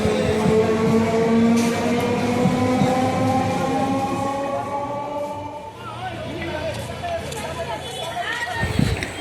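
Loud, steady rumble and rattle inside a moving suburban train heading to Sonarpur, with a brief shift in tone midway and a sharp knock near the end.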